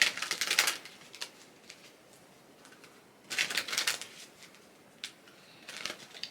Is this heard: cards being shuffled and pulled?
yes